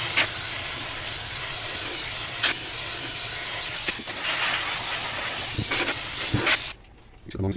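A handheld steamer hisses steadily while thawing built-up ice inside a Fhiaba refrigerator during a defrost water leak repair, a continuous close jet of steam with brief sputters, cutting off near the end.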